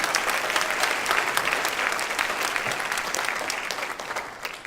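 An audience at a high school band concert gives a dense, sustained round of applause, many hands clapping steadily and fairly close, slowly tapering toward the end.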